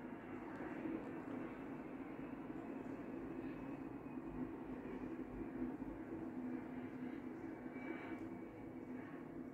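An airplane rumbles near the end of an airport runway, with a steady, moderately distant engine drone that holds for several seconds and no talking.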